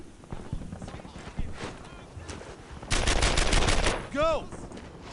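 Dense bursts of rapid gunfire in the World War II shooter Brothers in Arms, set during a D-Day drop behind German lines, with loud automatic volleys and sharp single shots amid battle noise and a ricochet-like whine.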